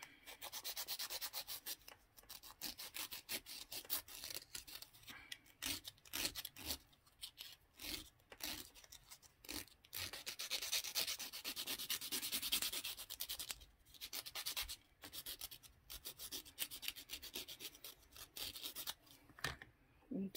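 Sanding a miniature dollhouse round hairbrush: quick, dry rubbing strokes in uneven bursts with short pauses, close and fairly faint, continuing for about twenty seconds.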